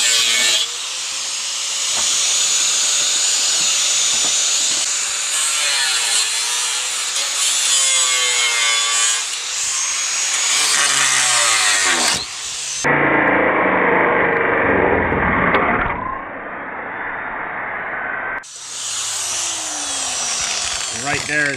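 An angle grinder with a cutting wheel slices through a rusted transmission cross-member on a 2004 Chevy Suburban 4WD: a loud, close, continuous gritty whine whose pitch repeatedly rises and sags under load, briefly sounding duller and muffled partway through.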